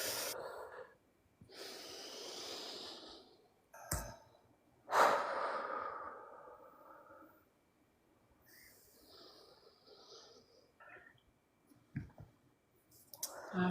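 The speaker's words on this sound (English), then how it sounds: "Go ahead and take some really big deep breaths" Several slow, deep breaths, each a long airy inhale and exhale with quiet pauses between, faint and close, with occasional clicks and brief sharp bumps.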